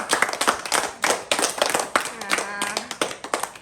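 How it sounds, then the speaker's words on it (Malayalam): A group of children claps together at an Eid al-Adha gathering, producing a rapid series of sharp, fairly close claps in uneven bursts while a voice speaks over them. "എല്ലാവരും ഒന്ന് ഓരോരുത്തർക്ക് കൈയടിച്ച് പ്രവർത്തിക്കും"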